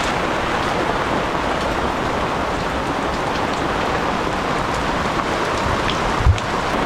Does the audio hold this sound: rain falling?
yes